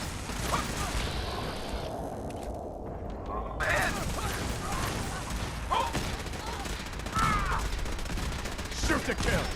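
Gunfire from the video game Fallout 4: dense, continuous bursts of shots and impacts fill the whole stretch, with game voices and effects mixed in throughout.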